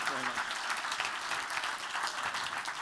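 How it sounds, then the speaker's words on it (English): Audience applause after a professional pickpocket's stage act: steady, dense clapping from a crowd that fills the whole stretch, fairly loud and continuous, with a voice briefly audible near the start. "Give them both a big round of applause."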